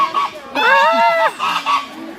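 A goose at a safari zoo park gives a loud, drawn-out honk, followed by a couple of shorter, quieter honks close by.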